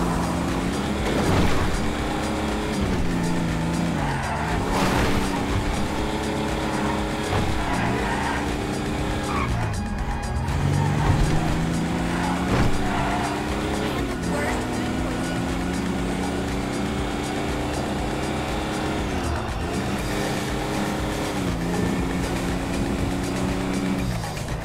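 Reckless car driving in GTA V, with an engine revving and shifting pitch over repeated tire squeals and skids, loud and continuous throughout with no talk.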